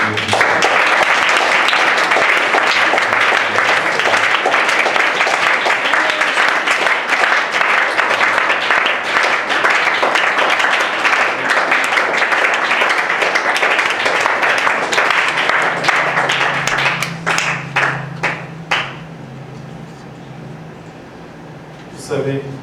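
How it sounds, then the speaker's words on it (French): A church congregation claps together for a long stretch, loud and sustained, then the applause thins into scattered claps and fades, with voices audible beneath. "Nous allons applaudir le Seigneur"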